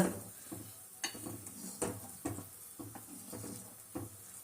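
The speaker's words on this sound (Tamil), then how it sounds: "பாருங்க, குழம்பு நல்லா கொதிக்குது." A pot of slightly watery tamarind curry (puli kuzhambu) with lentil dumplings bubbling on the stove, soft irregular pops and plops over a low background hiss, close and fairly quiet.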